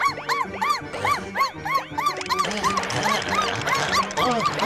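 A puppy barks in quick, high-pitched yips, one after another in an uneven, excited string with some whimpering between.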